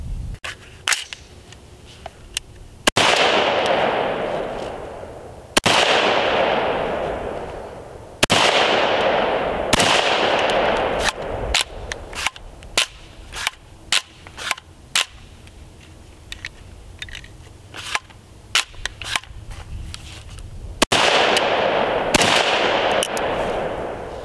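A rifle built on a Starlos SLF-15 polymer lower fires repeatedly outdoors. Loud single shots come in irregular groups, and some have long, booming echoes that fade out. No one speaks.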